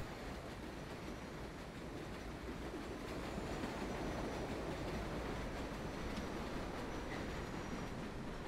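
Subway train rumbling along the track in World of Subways 4, a number 7 local bound for Main Street Flushing near Broadway station, with a steady loud roar of wheels and carriages throughout and no talk.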